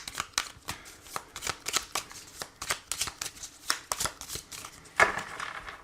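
A deck of tarot cards is shuffled and cut, producing a quick run of crisp riffling bursts and soft slaps, close and fairly quiet, with one sharper card snap near the end.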